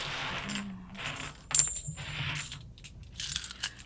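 Old 90% silver coins drop and clink onto a hard surface in several short bursts, with a bright ringing chime at one point and scattered jingles after.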